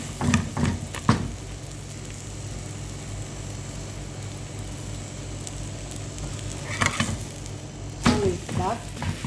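A chicken omelette sizzles steadily in a hot frying pan, a continuous close crackle broken by a few sharp clanks and scrapes of a utensil turning and pressing it.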